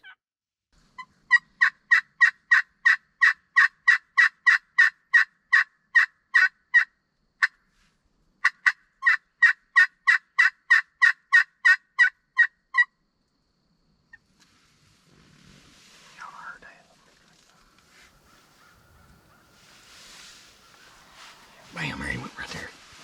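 A wild turkey gobbles in a long, rapid series of evenly spaced, clear, near calls, pausing once before resuming, answering a glass call; afterward hushed whispering from hunters follows in near silence.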